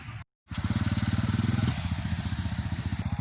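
A Sonic motorcycle with a sidecar putters steadily up close, its single-cylinder engine throbbing in a fast even pulse after a brief silence, with no talk over it.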